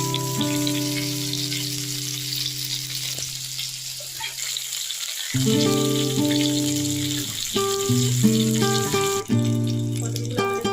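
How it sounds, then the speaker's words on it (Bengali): Stuffed pointed gourds (potol) fry in oil with a steady, moderately loud sizzle that runs under background music throughout. "পটলগুলো আমাদের ভালোভাবে লাল লাল করে ভাজা হয়ে গেছে।"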